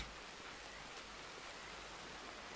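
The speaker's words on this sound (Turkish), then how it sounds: "Zaten ciddi yağmur var." Heavy rain falls in the video game Red Dead Redemption 2 as a steady, dense hiss that stays even and unbroken throughout, with no voices over it.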